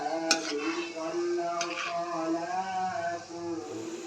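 Milk-powder gulab jamun frying in a pan and stirred gently, giving a soft bubbling sizzle with light utensil clinks under a continuous speaking voice.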